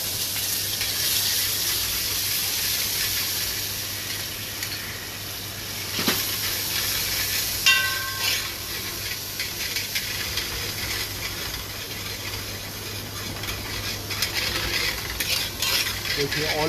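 Red chili paste and cloves frying in hot oil for paneer rogan josh, a steady close sizzle and hiss with occasional spoon stirring and scraping against the pan.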